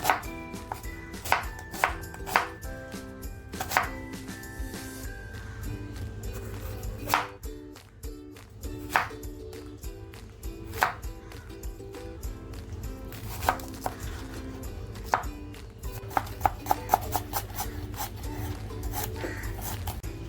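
Onion being cut into large pieces with a knife on a board for a home-style chicken angara, a series of sharp, close chops in irregular bursts over a steady low background hum.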